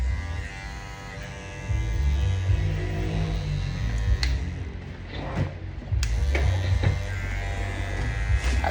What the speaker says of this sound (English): My clipper is making unnecessary noise